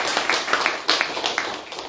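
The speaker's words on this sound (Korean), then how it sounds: "다시 한번 우리 조병서 장로님, 김광수 권사님에게 큰 박수로 환영하겠습니다" Sunday worship congregation at a Korean countryside church claps in welcome for a church elder and deaconess, a lively, close patter of many hands with distinct sharp claps standing out, steady and moderately loud.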